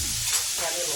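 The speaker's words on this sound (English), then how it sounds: "And then I'm going to finish frying." Fish sizzles and crackles as it fries in hot oil, a steady bright hiss with a faint stir partway through, heard up close with no talking.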